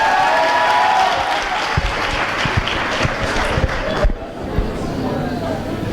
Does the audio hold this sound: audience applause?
yes